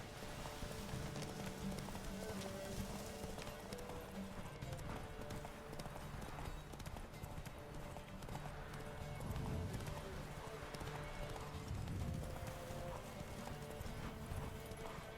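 Roach the horse galloping in a race in The Witcher 3: Wild Hunt: steady, fast hoofbeats that run on without a break, with a whinny in the mix and game noise beneath, under talk.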